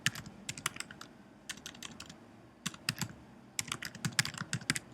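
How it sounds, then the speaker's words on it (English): Quick, uneven keystrokes on a computer keyboard as an email address is typed, crisp and close with short pauses between bursts of clicks. "you're basically going to type in your email"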